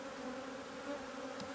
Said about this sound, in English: Smoke this a bit to get these bees out of the way.